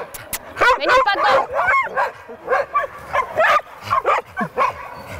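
Dogs roaming free at a farm animal refuge give a run of close, sharp barks and yips in uneven bursts, with whimpering sounds between them.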